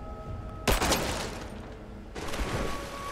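Bursts of rapid gunfire crackle in the video game Rise of the Tomb Raider, two loud volleys over a background game score, with no talk heard.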